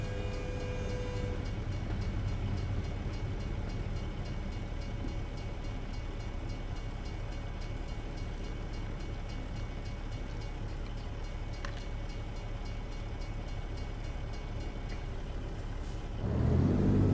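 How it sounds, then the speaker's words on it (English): A train passing a truck in American Truck Simulator, a long steady rumble and clatter of rail cars that continues at an even level, then rises in loudness near the end. "There is a train coming, right?"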